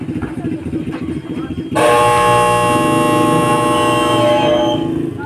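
A loud, sustained electronic buzzer blares for several seconds at a basketball game, over crowd chatter and voices in a gym, then cuts off.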